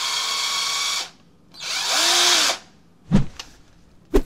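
A 12V cordless screwdriver drives a 4.5x60 mm screw into soft pine with no pilot hole: a steady high motor whine, a pause, then a second loaded whirring burst, followed by two sharp clicks or knocks.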